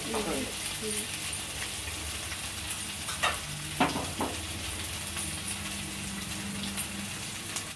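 Green chillies frying for fish curry (fish pulusu), stirred in a pan, give a steady low sizzle throughout, with a few sharper scraping clinks of the spoon near the middle.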